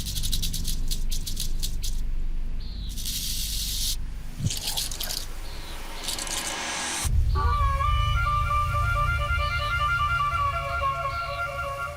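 A mother rattlesnake rattles her tail in a rapid, dry buzzing rattle, close and sustained across several bursts, with scraping and rustling around it.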